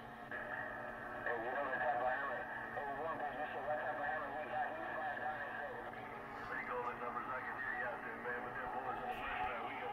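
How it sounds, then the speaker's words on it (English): Voice-like AM radio audio, narrowband and slightly distorted, with a steady hiss and warbling tones, continuous for the whole stretch. "basically the way the radio sounds on AM. Transmit audio and receive audio."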